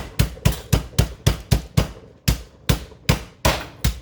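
Steady, heavy thuds land roughly twice a second, a dozen blunt blows of a rolling pin pounding chicken flat, close and loud with no voices.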